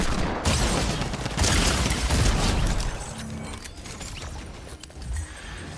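Gunfire from weapons in Fortnite crackles in dense, rapid bursts for the first few seconds, then thins into scattered distant shots and mechanical clatter.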